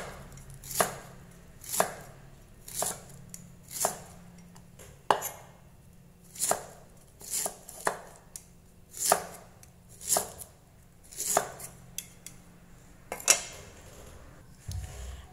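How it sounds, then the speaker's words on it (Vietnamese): A knife chops fresh pineapple on a cutting board for a sweet and sour stir-fry, striking in about a dozen crisp, evenly spaced thuds roughly a second apart, close and clear with little else around. "Các bạn sẽ thái phần dứa này ra cho mình."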